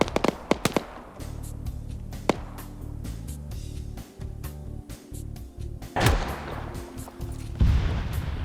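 Gunshots during a video game raid: sharp, irregular cracks, some in quick bursts, with a couple of heavier bangs later, set against steady in-game background noise.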